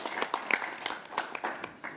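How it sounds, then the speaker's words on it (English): Brief, scattered applause at a city council meeting, a small group clapping unevenly for a couple of seconds at moderate distance. "I think it's applause worthy"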